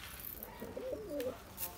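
A breeding pigeon gives a soft, low coo once in a loft, faint against a quiet background hiss.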